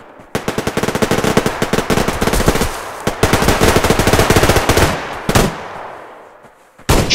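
Gunfire in the Survarium video game: rapid, loud automatic bursts rattle in fast runs with brief gaps, then a final single shot near the end, close and dominant.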